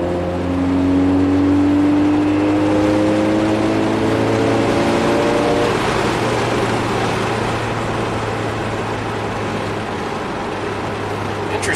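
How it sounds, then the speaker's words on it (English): A 1987 Toyota MR2 engine revs up and falls back repeatedly as it surges and fuel-cuts, rising whine streaks over a steady low drone, loud and close throughout. "the engine's doing the surging, as in, ramps up the RPMs, then it fuel cuts to bring the RPMs down"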